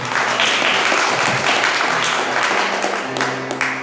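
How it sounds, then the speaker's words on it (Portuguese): A church congregation bursts into sustained applause during a Portuguese-language worship service led by a pastor, the clapping dense and steady throughout, with faint musical tones underneath. "Aplauda o nome do Senhor."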